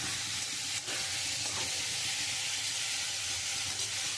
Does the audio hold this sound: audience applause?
no